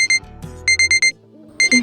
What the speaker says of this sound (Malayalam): അയ്യോ അലാറം അടിച്ചു